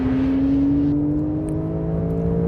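A new Porsche 911 Carrera engine held at high revs on a track, a loud, steady, close-up drone with strong harmonics that climb slightly, heard alone with no talking.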